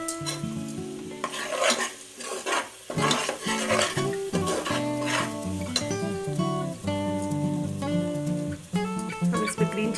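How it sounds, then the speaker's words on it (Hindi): Mutton curry being stirred in a pot, with scraping and a steady sizzle running through the whole stretch beneath a prominent musical backing. "इसी तरह कुछ देर हम मिलाएंगे।"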